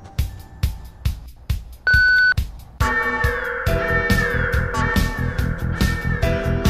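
An alarm sounds: a short sustained electronic beep, then a loud, dense blaring tone with pulsing layers over a rhythmic low thump.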